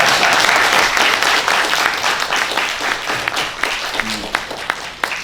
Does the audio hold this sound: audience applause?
yes